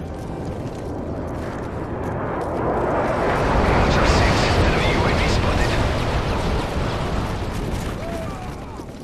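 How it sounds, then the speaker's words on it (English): A stun grenade goes off in the first-person shooter Modern Warfare 3, a broad roaring blast that swells in the middle of the clip and slowly fades, set against continuous loud battle noise. "stun grenade!"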